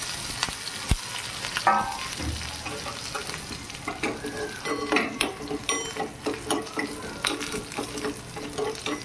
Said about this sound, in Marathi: आता जिरं घालायचं, मिरची टाकायची कापलेली, कढीपत्ता पण टाकून द्यायचा